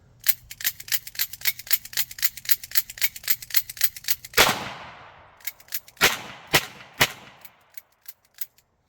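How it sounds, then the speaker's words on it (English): Ruger GP100 revolver firing light-struck .40 S&W Blazer rounds, a rapid series of sharp, loud cracks followed by a big boom and several more scattered shots, outdoors with no talking. "I'm going to try to fire off these light struck 40s"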